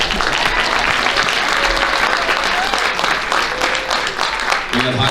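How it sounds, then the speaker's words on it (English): Sustained round of applause from a crowd at a high school athletic banquet, steady and full for about five seconds, with some voices mixed in near the end. "Round of applause."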